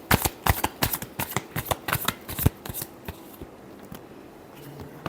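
Tarot cards are shuffled by hand in a quick series of crisp, papery riffles and slaps, close and loud at first, then thinning to scattered soft shuffles near the end.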